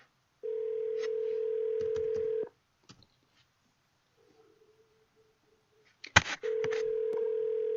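Two long, steady electronic video call ringing tones separated by a pause with faint clicks and a brief thump, the ring resuming at the end.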